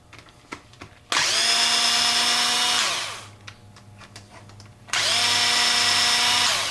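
Power screwdriver or drill backing two carburetor screws out of a weed eater, two loud steady whirring bursts of about two seconds each with a short quiet pause between them.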